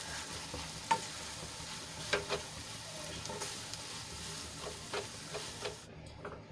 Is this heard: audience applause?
no